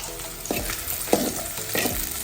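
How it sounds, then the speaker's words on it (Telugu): Cauliflower 65 fries in a pan on high flame, a steady close sizzle broken by three or four scraping stirs of a spatula. "ఈ ఫ్రైయింగ్ మొత్తం హై ఫ్లేమ్ మీదనే చేసుకోవాలి."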